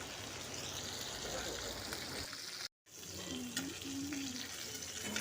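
Semolina-coated pomfret frying in hot oil, a steady close sizzle and crackle that cuts out briefly, then resumes with faint clinks and a soft tone.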